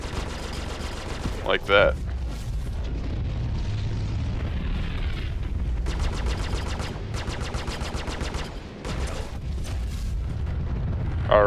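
Rapid sustained gunfire from a ship's weapons in the space game Star Citizen, a loud continuous hammering stream of shots with brief pauses, overlaid by a short spoken remark.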